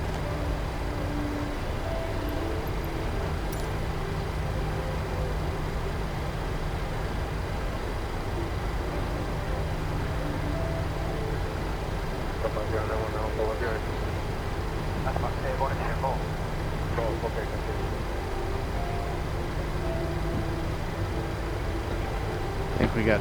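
An airliner taxis slowly toward its gate, with a steady, loud engine drone and hum heard from inside that stays constant throughout and has a faint radio voice over it.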